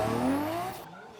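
A drift car at a national drifting competition at a circuit in Karawaci, Indonesia, gives a brief loud engine roar with tire squeal that fades away within about a second.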